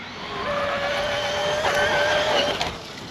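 A Traxxas Stampede RC truck with a 3500 motor races along at speed, a steady high electric whine with rising tonal pitch and gritty tire noise, loud and continuous, with no talk.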